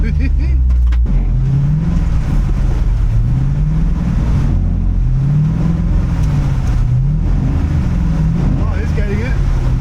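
Corvette C6 Z06 V8 revving hard through clutch kicks, loud and close, the engine note rising and falling in repeated surges while people talk excitedly over it.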